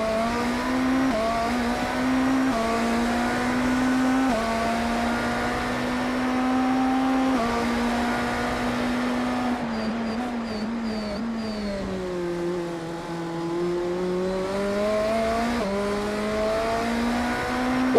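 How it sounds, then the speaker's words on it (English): A Mercedes race car in iRacing at the Sebring 12 Hours, its engine droning steadily with sliding harmonic pitches as it shifts down through the gears, dipping and climbing again near the end, loud and continuous. "that Merc sounds really good on the downshifts"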